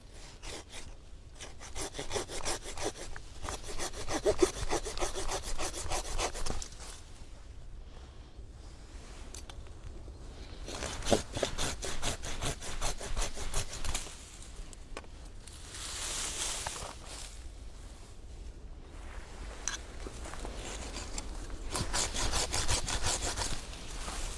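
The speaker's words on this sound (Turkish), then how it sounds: "Ağacımızda öncelikle belirlemiş olduğumuz kalın dalları çıkartarak işlemimize başlıyoruz." A hand saw cuts off thick olive tree branches during pruning, with long bursts of rhythmic rasping back-and-forth strokes. Short pauses break up the cutting, and no one speaks.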